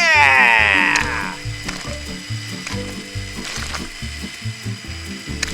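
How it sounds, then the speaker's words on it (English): Motorized LEGO stepper vehicle crossing an Orbeez pool, a loud rhythmic clicking and ratcheting of plastic gears repeating steadily throughout, opening with a brief rising high-pitched squeal. "Wow, the stepper vehicle is moving."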